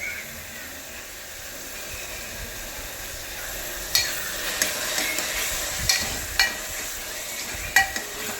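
Onion, tomato, garlic, cumin and mustard seeds fry in a pan, a soft, steady sizzle with occasional clacks of stirring rising in the second half, fairly quiet and close.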